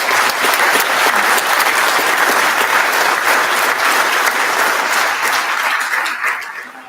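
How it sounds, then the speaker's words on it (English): A crowd at a Rotary awards event applauds local businesses and Rotarians, a loud, dense, sustained wash of clapping from many hands that carries on steadily and then begins to thin out at the end. "I want a round of applause for our business and our Rotarians"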